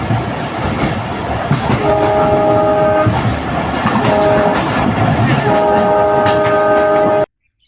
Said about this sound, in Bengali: আসছে train number 761 up Sagardari express.